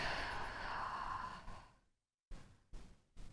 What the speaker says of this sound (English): Taking those nice big breaths.